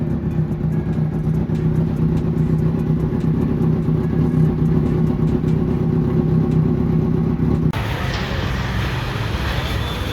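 A car engine idles steadily at a low, even hum while warming up after sitting unused for a week, close and constant, then the tone shifts abruptly near the end as the surroundings change, with no talk.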